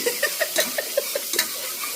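Oil poured into a hot pan crackles and sizzles in a run of quick, close bursts while stirring, with no talk over it.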